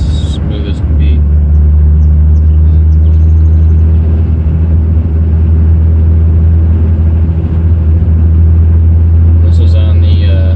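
A car fitted with a Grannas T56 Magnum manual transmission and a Ford 8.8 rear axle with 4.10 gears drives along, its engine giving a steady, close, loud low drone throughout.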